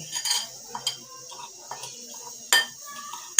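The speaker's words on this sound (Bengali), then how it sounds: "ভালোভাবে মিশিয়ে নিচ্ছি" A spoon clinks and scrapes against a pot while winter vegetable khichuri is stirred, with sparse close taps and knocks between quieter pauses.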